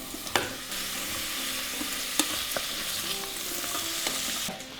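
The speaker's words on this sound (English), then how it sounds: "We're going to stir this mixture around until the onions are nice and soft" Onions, garlic and fresh ginger frying in an Instant Pot for coconut fish curry while being stirred; a soft continuous sizzle with a few sharp spoon taps and scrapes, close and moderately quiet, no voices.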